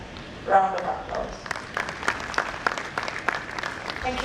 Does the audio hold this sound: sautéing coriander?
no